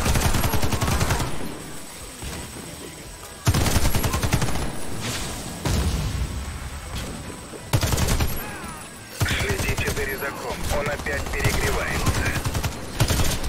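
Bursts of automatic gunfire from the online shooter Warface, loud and dense rapid fire in several separate volleys with brief pauses between them, played alone without speech.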